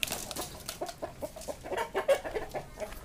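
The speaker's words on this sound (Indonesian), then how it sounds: "Ada ayam tetangga ini, ayam kampung." A neighbor's free-range village chicken clucks nearby in quiet, repeated short bursts, soft and irregular against faint background.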